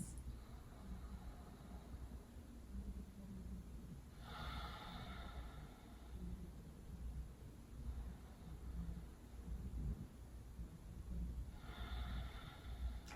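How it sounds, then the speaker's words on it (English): Two slow, deep breaths, each a clearly audible inhale drawn in through the nose and released, spaced several seconds apart over a quiet, steady background hiss. "Inhale and exhale."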